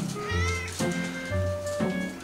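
A short-tailed domestic cat meows twice in a small indoor home setting, each call loud and close with a drawn-out, rising-and-falling tone and a brief pause between.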